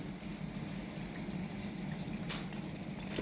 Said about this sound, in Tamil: தண்ணி ஊற்றிக்கிறேன்.